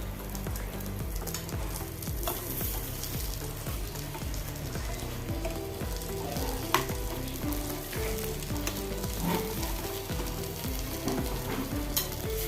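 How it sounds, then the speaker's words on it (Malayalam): Threadfin bream (kilimeen) frying in a pan with only a little oil gives a steady, close sizzle across the whole stretch, with faint spatters and light pan clicks and no talking. "അധികം എണ്ണയില്ലാതെ എല്ലാ മീനും നല്ല ഫ്രൈ ചെയ്തെടുത്ത് ഉണ്ടല്ലേ"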